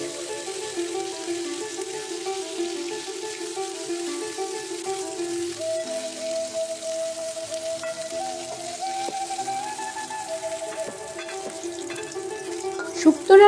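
Eggplant and green banana pieces frying in a small amount of leftover oil, producing a close, continuous crackling sizzle with a faint steady tone running underneath.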